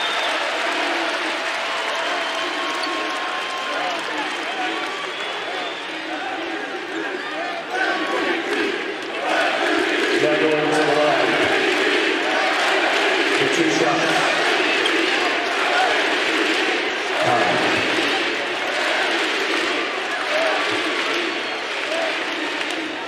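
A basketball arena crowd at an NBA game between the Sacramento Kings and Dallas Mavericks cheers and applauds loudly and steadily, a dense roar that swells midway and holds, with commentators talking over it.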